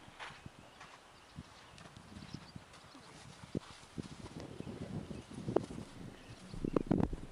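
Hooves of a horse called Indi or Mysti clip-clop on the ground during a horse training session, in irregular nearby steps that grow louder and busier toward the end, with no talking.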